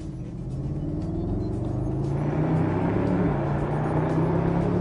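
A Mercedes SLS AMG Roadster engine rumbles and builds steadily in pitch as it accelerates on a track, a deep continuous roar growing louder.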